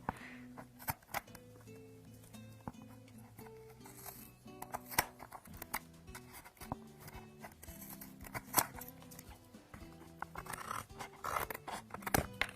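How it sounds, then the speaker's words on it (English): Quiet snipping and scratchy crunching as scissors cut through hardened hot glue, in irregular bursts with faint background tones. "My scissors don't like that hot glue."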